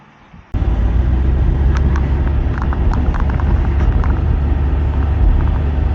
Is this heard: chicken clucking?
no